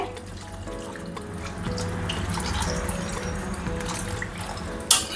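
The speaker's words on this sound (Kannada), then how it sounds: "ನೀರು ಹಾಕ್ತಾ ಇದ್ದೀನಿ." About a litre of water poured into a pot of broccoli soup with almonds, a continuous splashing stream running close and clear, ending with a sharp clink near the end.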